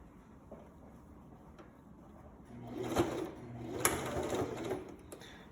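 A sewing machine stitches the seam joining a sleeve to a garment body, running in short bursts that swell louder in the latter half, a close mechanical whir with brief pauses between runs.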